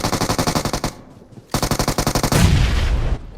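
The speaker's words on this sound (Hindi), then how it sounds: "इसको मैं बहुत सारी गोलियां मारती हूँ" Rapid automatic gunfire from the battle royale game BGMI comes in two fast, loud bursts of evenly spaced shots with a short pause between them, then ends in a heavy rumbling blast.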